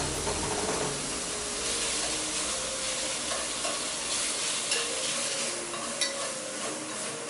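Thin-sliced marinated ribeye steak frying in a pan for japchae, Korean stir-fried glass noodles, giving a steady close sizzle and hiss with faint stirring scrapes throughout and no talk.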